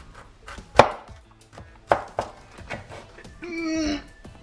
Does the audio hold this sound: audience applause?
no